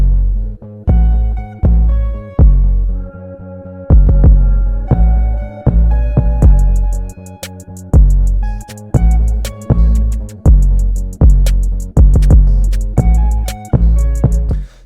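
A second 808 bass line for the verses of a dark guitar-driven trap beat, booming low notes in a steady repeating pattern under hi-hats and a melodic guitar sample, loud and close with no voices.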